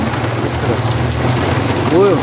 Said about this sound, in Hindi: बहुत ही कमाल की बारिश हो रही है